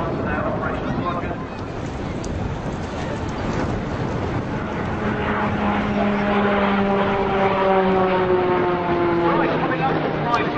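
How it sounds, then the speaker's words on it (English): A fixed-wing aircraft performs aerobatic rolls at the Southend Airshow, its steady engine drone loud and continuous throughout, with wind buffeting the microphone and a commentator talking over it. "pitched aircraft rolls to 360 degrees, before they're rolling once more onto its back"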